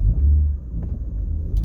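A V6 3.2 L car with a six-speed manual, stock intake and an aftermarket MagnaFlow catalytic converter rumbles along at a low, steady drone while driving, deep and close with no voices.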